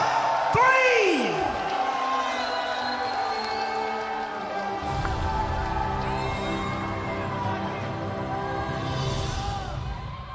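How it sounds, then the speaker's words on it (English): A crowd at the Fortnite Fall Skirmish finals cheers and whoops with scattered shouts and yells rising and falling, and a sharp slam-like hit comes near the start. "Guys, you aren't cheering loud enough."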